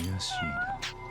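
A cat in the video game Judgment meows close up, with a quick pair of short, bright mews.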